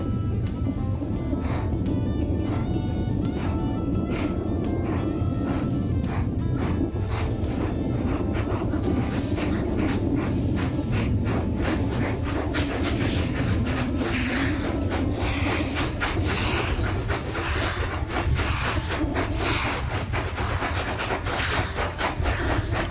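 Steam locomotives on a snowplow train stand at the Los Pinos siding and water tank, hissing and chuffing steadily with rhythmic clanking in heavy snow.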